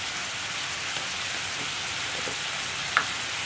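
Chicken cooks with turmeric powder in a pan, giving a steady, even sizzle that stays close and fairly loud throughout with a faint clink near the end and no talking.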